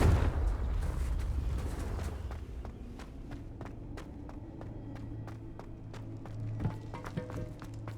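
In Hogwarts Legacy, a Confringo fire spell blast opens with a heavy booming rumble that fades over a couple of seconds, followed by a run of crisp, evenly paced footsteps.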